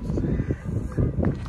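Parakeets calling from the tree they roost in, a few harsh, scratchy squawks repeating in short bursts close by, with faint outdoor background.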